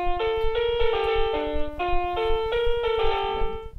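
A Tamagotchi melody plays as a rapid sequence of bright, thin electronic beeps stepping between pitches in a bouncy rhythm, loud and alone.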